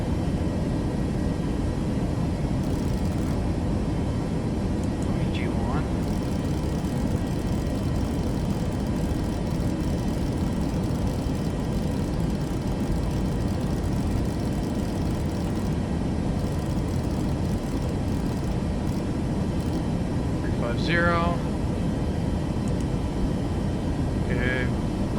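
Boeing 737 Max 8 jet engines in the Microsoft Flight Simulator 2024 game, a constant heavy low drone that holds steady throughout. Occasional brief cockpit chimes or beeps sound over it.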